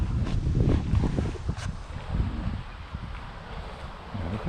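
Gusty outdoor wind buffets a microphone at a model biplane flying field, rumbling in uneven bursts that swell and ease, close and fairly loud with no talk.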